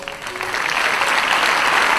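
Warm applause from a theatre audience at the Teatro Rendano in Cosenza during a Mediterranean culture prize ceremony, building quickly into a steady, dense wash of clapping.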